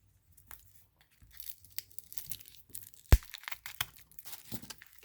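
Stationery subscription box package torn open by hand, with a sharp rip partway through and crinkling, rustling paper and plastic handling sounds before and after, close and fairly quiet.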